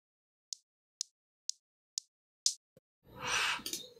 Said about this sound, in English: This is the mid kick.